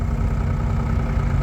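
A vintage tractor engine at a tractor-pull rally runs with a deep, chugging rumble, loud and close, steady throughout with no speech.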